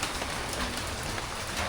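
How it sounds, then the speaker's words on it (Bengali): Continuous rain falls outdoors, an even full hiss of drops hitting surfaces that holds steady throughout with no talking. "এই দেখো কন্টিনিউ বৃষ্টি হওয়া হচ্ছে।"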